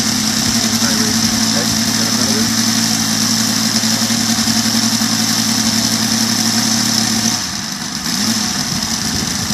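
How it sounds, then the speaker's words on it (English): A radial aircraft engine running smoothly with no cowling, a steady loud droning hum close by that shifts slightly near the end, with people talking over it. "Boy, is that ever smooth!"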